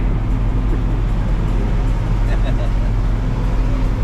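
A heavy vehicle engine drones steadily at close range, a constant low rumble with road noise and no clear breaks.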